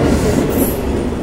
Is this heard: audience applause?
no